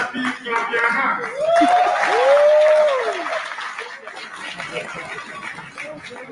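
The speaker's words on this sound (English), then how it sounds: "If you are happy, clap your hands." An audience at an evening gathering with a politician in California breaks into a burst of applause, steady crowd clapping that swells and then tapers off, with a voice and a whistle-like tone over it.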